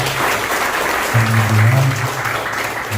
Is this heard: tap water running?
no